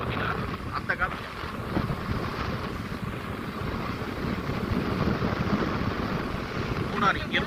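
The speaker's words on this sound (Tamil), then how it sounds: "நம்ம லைட்டாக சாரல் போட்டு அப்படி காத்தடிக்க பார்த்தீங்களா, அந்த காற்று." Wind gusting with light drizzle on a road trip from Tamil Nadu toward Kerala, a steady broad rushing roar buffeting the microphone, with brief faint bumps.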